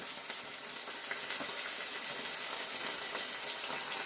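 Green chilies fry in hot oil for a village-style fish curry, giving a steady, bright sizzle that holds evenly throughout with no voices.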